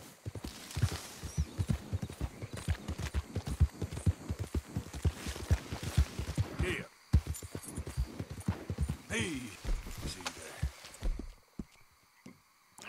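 A horse walking and trotting in Red Dead Redemption 2, with a brisk, regular run of hoof clip-clops, close and distinct, that stops briefly and resumes before fading near the end.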